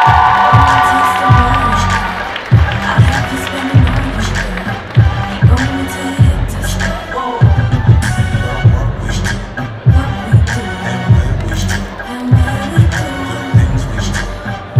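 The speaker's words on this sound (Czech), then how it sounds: "Tak ještě jednou potlesk." Applause and cheering from a crowd at a school graduation ball, with rhythmic clapping and shouts over pulsing dance music, loud and continuous.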